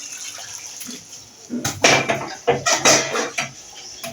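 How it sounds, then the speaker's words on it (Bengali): Hot water poured into a pan of mutton keema on the stove, a splashing, hissing pour that starts after a quiet moment and runs in uneven bursts, close and moderately loud. "এবার এর মধ্যে খানিকটা গরম জল"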